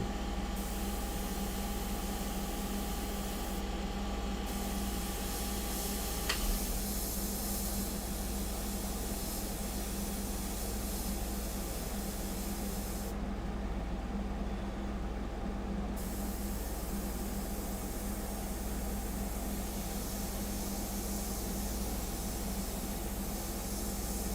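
An airbrush sprays sepia paint onto a fine art portrait, giving a steady, unbroken hiss that runs faint and even throughout, with no voices.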